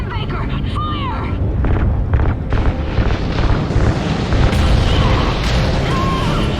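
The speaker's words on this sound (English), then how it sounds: "Ignite those RCS fuel lines." Ignited RCS fuel lines explode in the Call of Duty Ghosts space sequence, with a deep rumbling boom that swells and rolls on under game dialogue and radio chatter.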